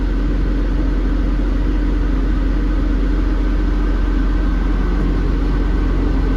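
A Lovol GM80 combine harvester engine runs as the machine begins to move off slowly, a loud, close, steady low rumble and drone that stays constant throughout with no voices.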